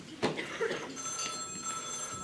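A telephone bell rings in a home. Its tone holds steady for about two seconds, close and clear. A brief voice sound comes before it.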